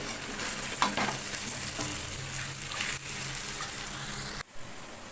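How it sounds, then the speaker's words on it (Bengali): Chicken pieces fry in a pan, giving a continuous close crackling sizzle with a few stirring knocks and a brief dip near the end. "এইভাবে ভেজে নিতে হবে।"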